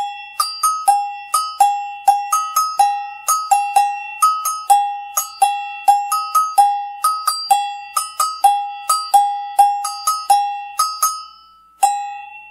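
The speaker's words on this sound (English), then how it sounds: "This is the agogo bells." Metal agogo bells, a pair of Latin cowbells, are struck in a quick repeating pattern of bright ringing tones, loud and close with short decays and nothing else around.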